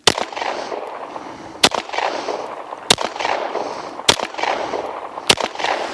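Handgun shots, including hollow points, fired at self-healing targets, five loud sharp reports spaced about a second apart, each ringing out over a steady noisy background, with no talking.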